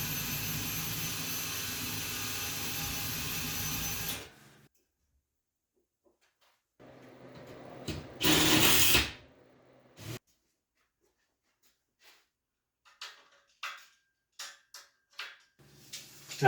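Power drill driving 3.5-inch construction screws into wall studs during a workbench and overhead shelf build: a loud, steady motor drone for about four seconds, then silence broken by a short burst and scattered faint clicks and knocks.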